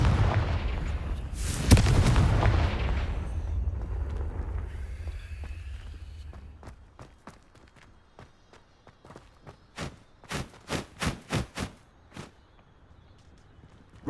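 In Hogwarts Legacy, a Confringo fire spell lands with a heavy, booming blast that rumbles and slowly fades, followed by a run of footsteps.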